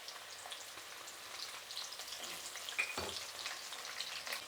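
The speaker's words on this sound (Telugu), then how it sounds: "ఇప్పుడు తెల్లగడ్డలు వేయించుకుందాం." Garlic cloves frying in oil for a batch of mixture snack, a soft, steady sizzle with faint crackles and a couple of brief stirring clinks, heard alone at low volume.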